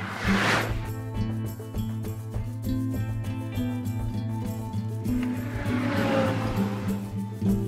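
Cars rushing past on a road near Oildale, a steady loud roar of engines and tires with swelling pass-bys at the start and again near the end.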